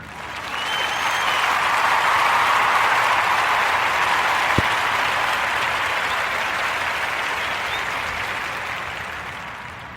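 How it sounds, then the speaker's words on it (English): Warm applause from a podcast audience honoring a featured guest, a steady broadband wash of many hands clapping that swells early and holds for the full length, with one sharp louder clap partway through and no talking. "Let's give a warm Narrative podcast round of applause for our sister Jasmine"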